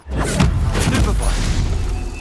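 A Stupefy spell cast in the video game Hogwarts Legacy, a short magical burst with a deep boom and thuds over a sustained rumbling low-end, loud and close.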